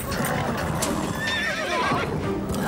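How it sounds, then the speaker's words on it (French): A horse neighs and whinnies with shrill, wavering calls over a busy backdrop of clip-clopping hooves and movement, fairly loud and close throughout. "Stéphanie, contrôle ton cheval."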